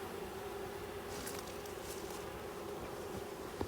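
A colony of honey bees hums steadily during hive installation, a dense continuous buzz close by, with a few individual bees droning louder as they fly past.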